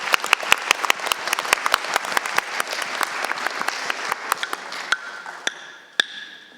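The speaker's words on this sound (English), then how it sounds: "thank you very much for giving me that clap and that" A small group at a council meeting claps for several seconds, the sharp hand claps thinning out toward the end, with a bright tap near the close.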